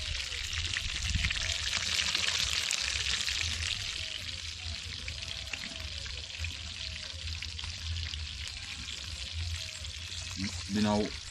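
Bonito fish frying in a pan for a brown stew, a loud continuous sizzle and crackle close by, with a brief clatter near the end.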